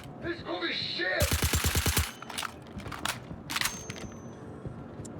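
Rapid bursts of automatic gunfire ring out in a Star Citizen bunker mission, a fast string of sharp shots followed by scattered single cracks, with a voice talking.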